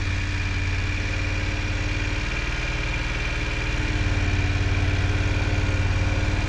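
A motorcycle engine idles steadily during slow-speed U-turn practice, a close, even mechanical hum with a constant low drone and no talking.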